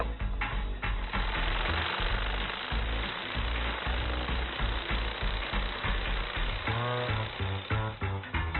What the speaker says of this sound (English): I'm actually going to use my saber saw and just clamp it to the table, do half the cut